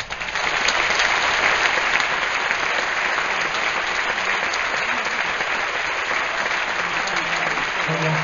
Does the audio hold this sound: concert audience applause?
yes